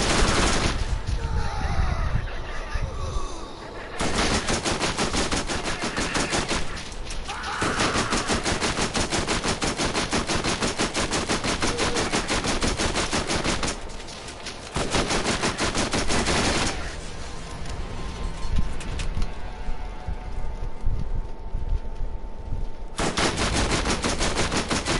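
Video game machine gun with a fire rate upgrade, rapid continuous bursts of automatic fire that run for long stretches, broken by a few short pauses, loud and close throughout.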